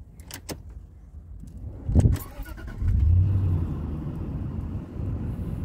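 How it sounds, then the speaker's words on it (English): A 2010 Range Rover Sport HSE starts up with a few clicks, a short sharp crank and then a deep, steady idle rumble that settles close by. "listen to your engine roar to life"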